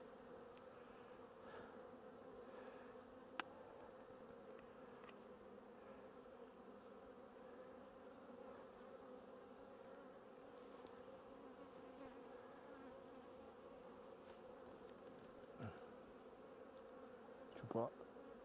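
Honey bees working at a farm beehive while capping honey make a constant close buzzing drone for the whole stretch, with a few faint clicks and knocks.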